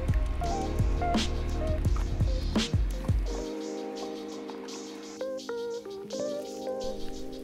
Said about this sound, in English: you're just gonna pour the water from the pot, holding the noodles back